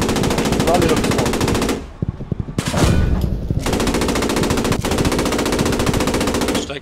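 Machine gun fire during a tank skirmish in Post Scriptum, a WWII shooter set in Oosterbeek: loud sustained automatic bursts with a short gap of scattered shots and clatter, then another long burst, and faint radio chatter underneath.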